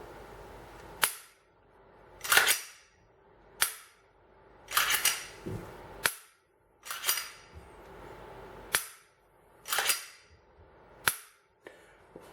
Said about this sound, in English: I'll give it a trigger pull.